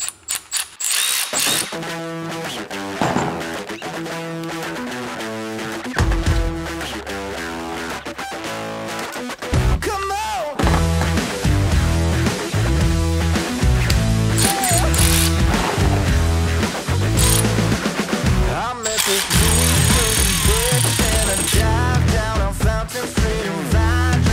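A ratchet wrench working loose a brake caliper bolt during a DIY brake pad change, a loud, close, dense run of rapid mechanical clicking and whirring with rhythmic bursts and short pauses, lasting throughout.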